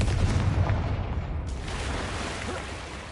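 The Confringo fire spell in Hogwarts Legacy goes off as a booming blast that dies away into a rumbling tail, with no talking.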